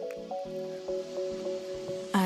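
Garlic, olive oil and sea salt are stirred together in a bowl for kale chips, giving soft wet squishes and small clicks in a steady rhythm, close and quiet, ending with a brighter scrape.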